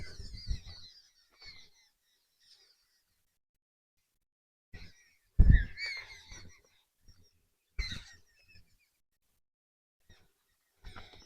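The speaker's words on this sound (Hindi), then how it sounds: "परिंदों की चहचहाट सुने" Birds call in hilly countryside with forest and grazing cattle at evening in Soon Valley, Khushab. Short, scattered calls come in a few separate bursts between long quiet gaps, fairly close and moderately loud.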